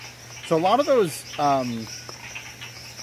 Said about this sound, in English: burp sounds, that is that mahogany tree frog calling.